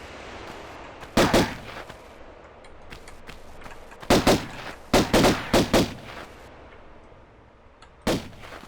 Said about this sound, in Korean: 지금 위에서 쏘고 있어요, 위에서.